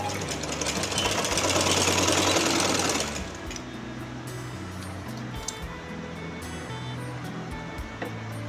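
A sewing machine runs a fast, loud, continuous stitch along a garment's shoulder seam for about three seconds, then idles at a lower hum with light mechanical clicks.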